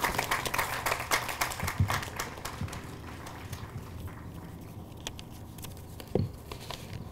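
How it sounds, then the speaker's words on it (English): An audience at an outdoor Memorial Day ceremony in the Town of Wappinger applauds for Philip Dew, a steady patter of many hands clapping that thins out and fades over several seconds, with no voices. "A round of applause for Philip Dew."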